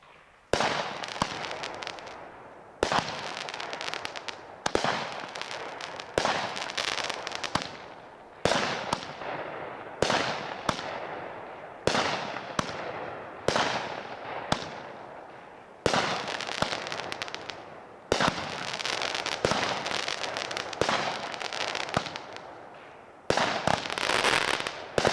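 A 4x4 Fire Factory firework cake fires its 16 shots at a night demo, each launch a sharp thump followed by crackling bursts, spaced a second or two apart over about twenty-five seconds.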